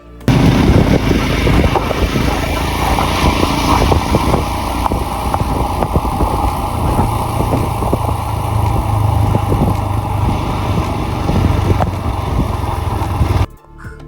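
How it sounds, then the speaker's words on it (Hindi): A convoy of motorbikes riding along a mountain road in Ladakh, a loud continuous engine roar with wind buffeting that holds steady for about thirteen seconds, then cuts off abruptly. "जब हमारे बाइकों का काफिला रास्ते से आगे बढ़ते जा रहा था"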